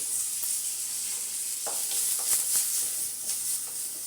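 Dried red chillies frying in hot oil, a steady bright sizzle and hiss with occasional stirring scrapes and soft pops, close and continuous with no talking.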